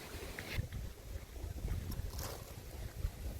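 Strong wind gusting outdoors at a countryside fishing spot, a steady low rumble of wind buffeting the microphone throughout with no talking.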